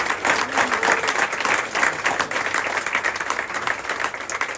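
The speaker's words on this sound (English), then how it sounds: "Would you just give him a round of applause?" A room full of people gives a warm round of applause for a board chair at a tiny-homes charity gathering, with dense, lively clapping that stays even and sustained across the whole stretch.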